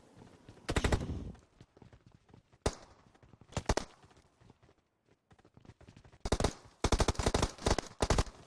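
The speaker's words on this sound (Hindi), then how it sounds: "कोई बंदा आगे से गोली चला रहा है भाई" Bursts of rapid gunfire from a video game, loud and close, in several separate volleys with short quiet gaps between them.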